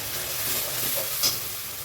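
Two large tomatoes, ground to a paste in a mixer, are poured into hot oil while cooking okra kara kuzhambu. The oil gives a loud, steady sizzle and hiss throughout, with no talking.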